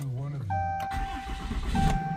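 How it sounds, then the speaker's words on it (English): A 2018 Ram 2500 Cummins diesel truck engine starting up: a brief chime and electronic tone, then the cranking catch and a rumbling idle, close by, with a voice talking at the start. "I start my truck up"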